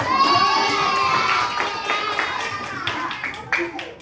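A class of fourth-grade schoolchildren claps at a parents and teachers day event, with dense, steady applause and scattered voices throughout.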